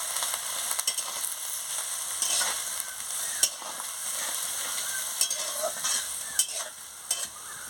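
Gima greens simmer in a pan with chilli powder, mustard paste and a splash of water, giving a steady close hiss and sizzle with occasional scrapes and taps of a stirring spoon.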